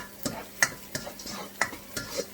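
Oil sizzling in a pan for a tadka, a tempering for a vegetarian chickpea dish made with canned chickpeas. Soft crackling pops and stirring clicks come at an irregular rhythm, close and fairly quiet, with no talk.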